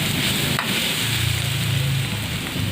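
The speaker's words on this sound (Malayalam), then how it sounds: "2 പഴം ഞാൻ വറുത്തെടുക്കുന്നുണ്ട് നെയ്യിൽ" Ripe bananas sizzle steadily in hot ghee, a close, continuous crackling hiss with faint stirring noises underneath.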